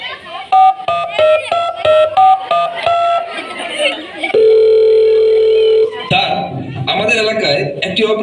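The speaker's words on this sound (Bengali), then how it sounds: "দাঁড়া আমি এক্ষুনি পুলিশকে ফোন দিচ্ছি" A telephone dial tone plays as a call is placed to the police. A steady, even tone holds for over a second, set between stretches of background music and voices.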